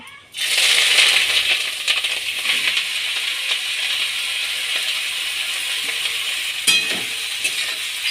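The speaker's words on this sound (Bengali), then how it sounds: "তেলটা গরম হয়ে গেছে এবার আমি ছাতুগুলো দিয়ে দেব" Mushrooms drop into hot mustard oil in a pan, and a loud, close sizzle bursts in at once. The hiss holds steady, with a few clinks and stirring rattles.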